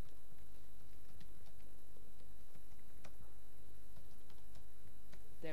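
Soft keystrokes from a computer keyboard as a folder name is typed, a scattered run of light clicks close by under a steady background hiss.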